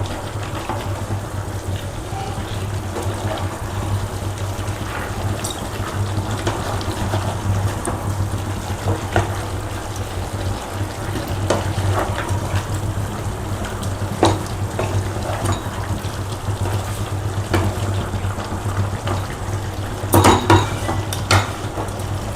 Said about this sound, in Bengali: এবার আমরা পেঁয়াজ কুচিগুলোর মধ্যে দিয়ে দেবো আর ক্যাপসিকামটা।